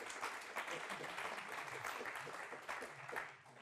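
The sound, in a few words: audience applauding Bruno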